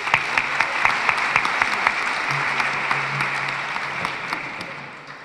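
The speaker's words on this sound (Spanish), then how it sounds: "un aplauso para Sergio" Applause from an audience at an immigration town hall in a Santa Ana high school, a steady wash of many hands clapping for several seconds with scattered louder claps, fading slightly at the end.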